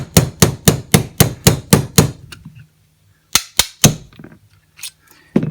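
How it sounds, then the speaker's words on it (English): A hammer drives out the trigger pin of a Canik TP9 V2 pistol: a rapid run of about eight sharp metallic taps, a pause, then a few more strikes, loud and close. "Now we're going to drive out the trigger pin."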